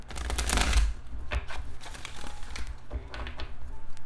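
Tarot cards are shuffled by hand in quick riffling and crinkling bursts, a louder rush early on followed by lighter irregular taps and flicks at close range.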